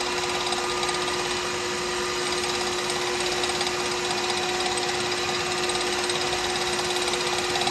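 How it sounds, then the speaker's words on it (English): A wood lathe spins steadily while a pen blank is wet sanded, giving a constant whining hum with a sharp tonal whine and an even hiss, no talking over it. "I can take my face shield off because I'm wet sanding, so I've got no dust to worry about."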